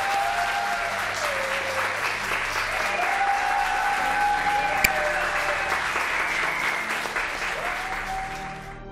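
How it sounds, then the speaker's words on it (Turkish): A studio audience at a Turkish daytime television show applauds in a sustained, dense wave of clapping that holds steady for several seconds before easing slightly at the end, with faint background music underneath. "Hadi kocaman alkış rica ediyorum sizden."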